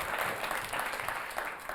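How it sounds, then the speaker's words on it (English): A spelling bee audience claps for a runner-up, a short burst of steady, fairly loud applause from a room of people with no clear speech. "So can we have a round of applause?"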